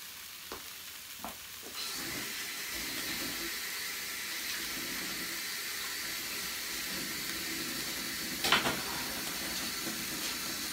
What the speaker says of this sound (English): So hands all washed again.